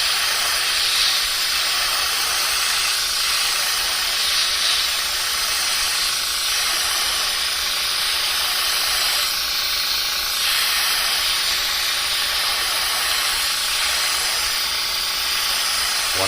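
An inexpensive airbrush sprays paint with a continuous, fairly loud hiss of air, steady throughout with slight surges at intervals, and no talking.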